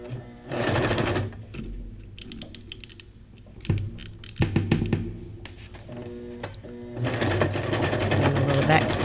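A sewing machine stitches through paper junk journal signatures in loud running bursts, pausing between passes with scattered clicks and thumps before a long continuous run at the end.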